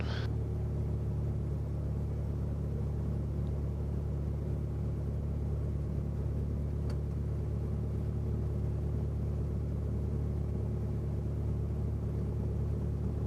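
A small airplane engine running at full power during a night flight: a constant, loud, droning rumble with no break or change in pitch.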